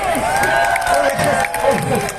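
A crowd of people at Granville Island in Vancouver shouting together as loud as they can, a dense rowdy roar of many voices mixed with cheers and individual yells, sustained throughout.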